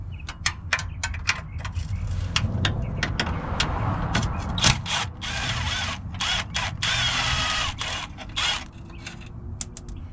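Power tool working on 12 mm bumper bolts of a Subaru, close-up ratcheting and whirring in repeated short bursts with sharp mechanical clicks between them.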